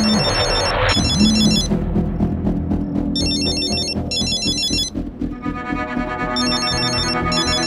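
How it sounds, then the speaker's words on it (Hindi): Mobile phone ringing with an electronic ringtone in repeated bursts of bright tones, loud and close, with some background sound between the rings. "ये किसका मोबाइल बजा?"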